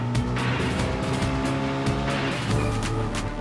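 A race car engine driving on throttle at Laguna Seca in Gran Turismo 7, a continuous loud droning whine with layered tones and slight tire noise, steady throughout with no voices.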